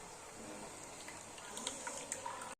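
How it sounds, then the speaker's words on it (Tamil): Tamarind water is poured into a clay pot for a traditional fish curry, a soft, continuous liquid splash and trickle, faint and close, with a few small drips toward the end and no talk. "இன்னும் கொஞ்சம் புளி தண்ணி ஊற்றிக்கலாம்."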